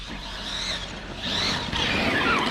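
Electric whine of a Corally Kronos RC car with a 2050kv 11t motor on 4s, spinning up in rising, whirring sweeps, close and fairly loud with some squealing.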